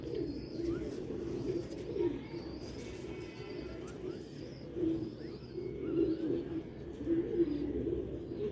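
Rare-breed Sialkoti slate-grey pigeons coo softly in a loft, low repeated calls coming in uneven bursts at moderate distance over a quiet background hiss.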